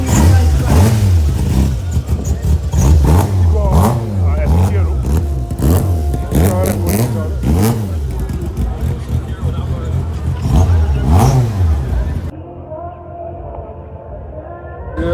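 A Ford Torino at a retro car show in Barbados revs loudly several times in rising and falling sweeps, then settles toward a lower idle, with people talking over the engine.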